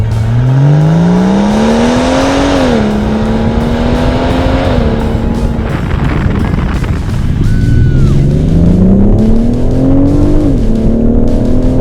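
BMW M760 Li engine revving hard through repeated acceleration runs, pitch climbing steadily, dipping briefly at gear changes, then rising again; loud and close, with no talk over it.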